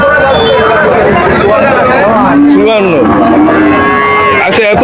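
Cattle moo loudly nearby at a cattle market, with a long low bellow standing out over a busy background of voices and crowd chatter.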